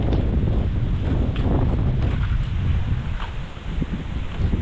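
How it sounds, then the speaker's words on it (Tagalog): Strong wind buffets the microphone in a continuous low rumble, gusting steadily throughout with no voices. "Mahangin na naman oh."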